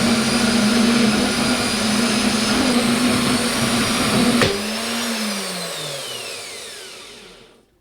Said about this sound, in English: I've got a laser, so all I need to do is cut some stock and laser out what looks like rivets